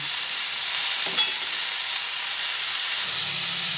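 Mixed vegetable curry with lentil dumplings is stirred while frying in a pan, giving a continuous close sizzle with faint scraping and no speech.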